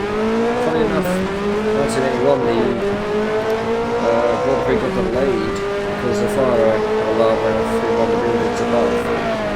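A racing car's turbocharged engine in the Assetto Corsa driving game on a rain-soaked track, droning loudly and steadily with rising and falling revs and occasional tyre squeal throughout.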